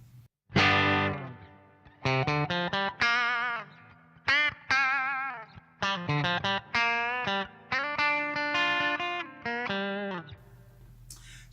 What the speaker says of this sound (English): And then onto the well reverb.